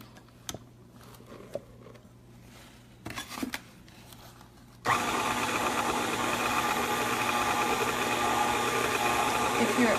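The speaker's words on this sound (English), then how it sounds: "As soon as you see that it's somewhat mixed up, then you can stop the mixer and put more in." Electric stand mixer beating chocolate chip cookie dough, a steady loud motor whir that starts abruptly midway and runs continuously, preceded by a few faint kitchen clinks and handling sounds.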